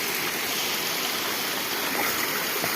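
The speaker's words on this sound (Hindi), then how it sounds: "आपको पूरा झरना दिखाते हुए चल रहे हैं मेरे भाई" A waterfall in Uttarakhand roars in a steady, unbroken rush of water that stays broad and constant throughout, with no voices over it.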